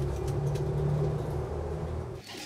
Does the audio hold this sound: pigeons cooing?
yes